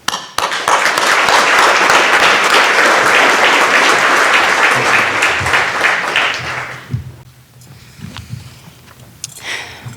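Warm applause from an audience at the 2025 UAS Sitka commencement ceremony welcoming a speaker: dense, loud clapping sustained for about seven seconds before thinning into scattered claps and quieter room noise.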